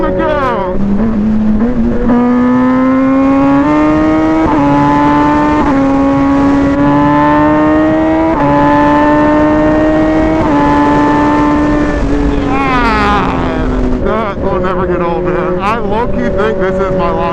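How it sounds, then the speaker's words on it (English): A very loud motorcycle engine revs hard up close, its pitch climbing and stepping through repeated throttle bursts before dropping and rising again near the end. "This is my loudest bike."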